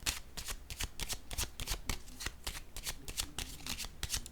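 Tarot cards being handled and shuffled, a steady run of crisp riffling slaps and flicks repeating close up for several seconds with no voices.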